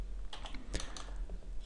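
A computer keyboard clicks close up as someone works in AutoCAD, with a short irregular burst of several key presses that includes one louder stroke, and no talking.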